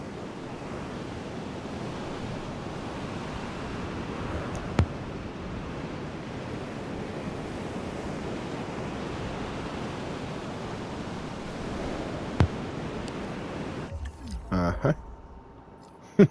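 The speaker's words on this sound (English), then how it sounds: "These windy storms in here seem to blow everything around" Windy storm in the dinosaur park game Jurassic World Evolution 2, a steady roar of rushing wind and rain-like noise that fills the scene for most of its length, with a few faint clicks before it drops away near the end.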